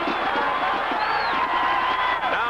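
A sustained roar from a stadium crowd of some 80,000 at a 1984 college football game between Boston College and Penn State, a dense, steady wall of cheering with tonal whoops and a voice talking over it.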